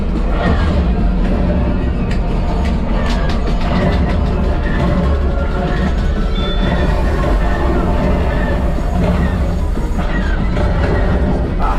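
A train rumbles loudly and continuously on the Millennium Falcon Smugglers Run ride at Disneyland's Black Spire Outpost, mixed with dense ride effects and clatter for the whole stretch.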